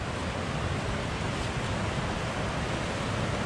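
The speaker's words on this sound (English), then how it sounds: "Show you the water that I am sure you can hear" Stream water rushes steadily beside a hiking trail at Jones Gap, a dense, even hiss of flowing water with no break, moderately loud and close.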